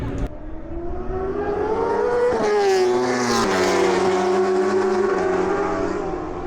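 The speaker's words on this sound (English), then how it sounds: "we'll actually see some motorbikes going round" Superbikes race around the Thruxton circuit in a British Superbike session, a sustained loud engine howl that climbs and shifts pitch as bikes pass, steady and fairly close.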